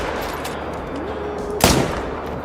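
A single sharp rifle shot fired at a moose in the hunting game Call of the Wild, loud and close over steady outdoor ambience, with a faint voice nearby.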